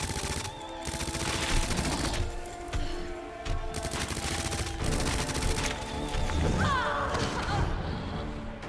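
Rapid automatic gunfire from a submachine gun in the Resident Evil 2 (2019) video game, loud bursts repeating throughout over game music and clatter, with a brief pause around the middle.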